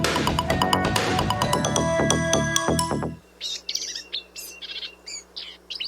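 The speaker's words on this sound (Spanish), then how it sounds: "El vireo gorra negra, Vireo atricapilla." Black-capped vireo song: a run of bright, varied chirps and warbles that stops abruptly partway through, followed by fainter, more distant chirps over a quiet background.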